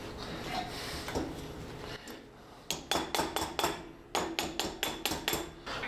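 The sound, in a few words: light tapping with a hammer on a Jeep axle part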